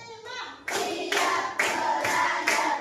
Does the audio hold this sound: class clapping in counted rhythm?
yes